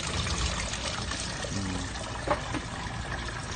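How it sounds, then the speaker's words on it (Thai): Water flows constantly through the channels of a hydroponic vegetable growing system, giving a steady, close trickling and pouring wash with a brief splash partway through and no voices. "ไหลอยู่ตลอดเวลาครับน้ำ มันจะวนไปวนมาอยู่นี่นะครับ"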